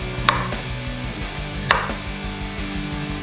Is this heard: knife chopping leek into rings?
yes